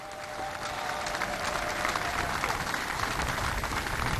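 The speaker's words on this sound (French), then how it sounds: "Et ça, je pense que ça mérite des applaudissements pour notre très cher président." A crowd at a gathering applauds steadily for a few seconds, a dense wash of clapping at moderate distance with no talk over it.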